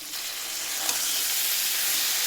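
Fish fries in a pan with salt and ground spices, cooked down into a dry, crumbly fry. A dense, loud, close sizzle hisses steadily throughout.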